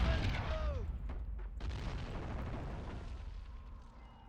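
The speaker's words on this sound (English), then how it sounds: "This artillery piece, doing what he can." An artillery piece firing in the Army Men: Plastic Wars video game, a deep rumbling blast that rolls on and fades over several seconds, with faint speech underneath.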